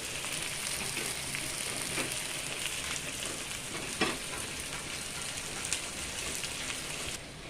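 Onion fries in a pan with a steady, close hiss and crackle that runs throughout, with a couple of faint knocks and no voices.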